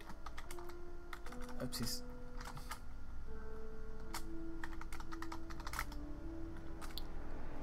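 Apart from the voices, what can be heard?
typing a password on a computer keyboard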